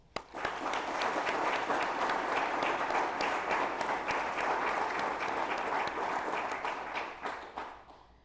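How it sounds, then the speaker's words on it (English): Sustained round of applause from a graduation audience at a Border Patrol Academy ceremony, dense clapping steady for about seven seconds before tapering off near the end. "Please join me in giving them a round of applause"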